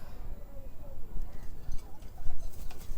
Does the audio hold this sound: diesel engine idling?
no